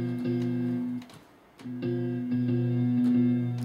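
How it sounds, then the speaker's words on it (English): An electric guitar runs through a compressor pedal on an iRig Blueboard setup, playing sustained, evenly leveled notes and chords with a brief pause partway through. "There's the compressor."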